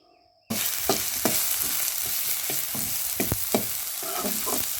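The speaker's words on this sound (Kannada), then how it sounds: "ಇದಕ್ಕೆ ನಾನು ಟೊಮೆಟೊ ಹಾಕಿ ಅದನ್ನು ಕೂಡ ಚೆನ್ನಾಗಿ ಫ್ರೈ ಮಾಡ್ತಾ ಇದ್ದೀನಿ" Chopped tomatoes sizzle in a hot pan for tomato gojju, a steady frying hiss broken by repeated scraping stir strokes at close range, starting abruptly after a short quiet moment.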